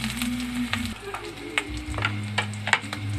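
Onion and garlic sizzle in hot oil for Filipino fried rice, a steady close frying crackle with repeated scraping clicks of a spatula stirring the pan.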